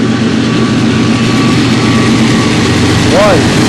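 A CSX freight train pulled by three locomotives passes beside a river, its heavy low engine rumble steady and loud, with a brief horn-like tone near the end; someone talks over it.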